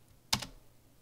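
A short burst of keystrokes on a computer keyboard while entering a Linux install command, a quick cluster of crisp clicks lasting under half a second in an otherwise quiet room.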